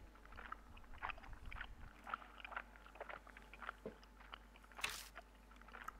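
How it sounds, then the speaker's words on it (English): Faint, wet chewing and crunching from Spirit Hunter: Death Mark, a horror video game, repeating in uneven bites over a quiet, low ambient hum with no talk. "Here you go, that sound again. Chewing sound."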